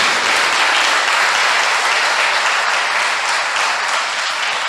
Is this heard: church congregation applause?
yes